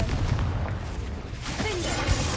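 A Confringo explosive spell going off in Hogwarts Legacy, a dense rumbling blast texture that fills the whole clip with a steady roar and a few sharper bursts.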